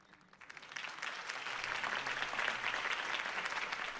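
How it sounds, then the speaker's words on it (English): A crowd in a video game, Batman: The Telltale Series, applauds steadily, dense clapping that swells after a moment and holds at a strong, even level throughout. "could have heard that applause"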